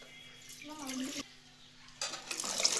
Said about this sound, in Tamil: அதில் தண்ணி நிறைய ஊற்றணும்